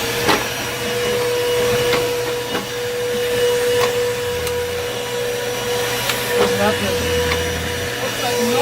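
Bissell Powerforce bagless vacuum cleaner runs with a continuous steady whine and motor drone, with occasional rattles and clicks from debris being picked up.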